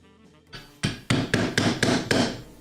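A mallet strikes a chisel into wood while Japanese joinery is cut for a sawhorse, six sharp, evenly spaced blows ringing close and loud after a soft scrape, with no talking.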